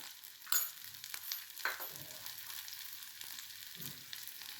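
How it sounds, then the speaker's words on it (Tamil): Pumpkin greens sautéing in a pan with asafoetida and turmeric, a faint steady sizzle with a few soft stirring scrapes; no voices. "மஞ்சத்தூள் இதை நல்லா கொஞ்சம் நல்லா வதக்கிக்கணும்"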